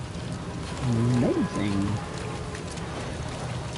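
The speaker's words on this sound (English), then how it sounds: "This gloomy rain everywhere." Steady rain falls in the Death Stranding game, a constant hissing wash of drops throughout, briefly overlapped by a spoken exclamation and a low tonal sound near the start.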